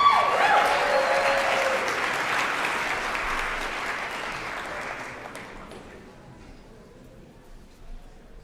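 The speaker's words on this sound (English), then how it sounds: "Please give them a round of applause." An audience applauds performers at the 50th annual New Year's Day marathon, the clapping loud at first and then thinning and fading away over several seconds.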